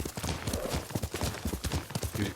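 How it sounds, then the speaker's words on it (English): Horse hooves clip-clop at a steady walking rhythm in the video game Ghost of Tsushima, close and fairly loud over a low ambient bed, with no speech. "Yuriko's horse. She can't be far."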